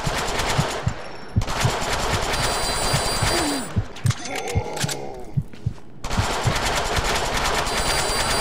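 Rapid machine gun bursts in the Deadpool video game, dense repeated gunfire filling most of the stretch with a brief lull in the middle before firing resumes loud and close.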